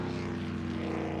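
A sprint racing boat's engine drones steadily and loudly, a continuous throbbing roar heard at a distance with no pause.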